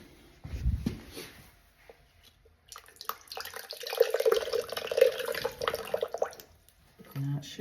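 Water gushing and splashing out while a hot water tank is flushed, starting after a few seconds of quiet handling noises and running unevenly before thinning near the end, with faint voices at moments.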